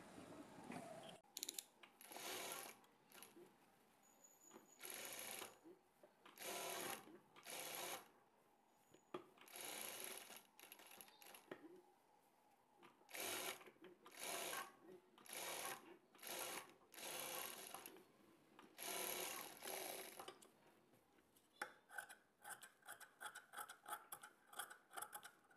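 A sewing machine stitches blouse cloth in repeated short bursts of rapid mechanical whirring separated by brief pauses, close and clear, with quicker stop-start runs toward the end and no talking.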